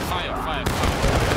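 Gunfire in the Civil War-era shooter War of Rights, a sharp loud report cutting in after a brief tonal whine, followed by a dense rattle of shots, with a voice talking over it.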